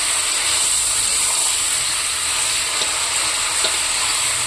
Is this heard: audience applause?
no